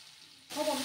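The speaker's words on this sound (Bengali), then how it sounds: "টমেটোগুলোকে একটু আমি ভাজা ভাজা করে নিচ্ছি।" Tomatoes for baigan bharta fry in a pan. After a quiet moment, a sudden burst of bright sizzling starts and keeps going.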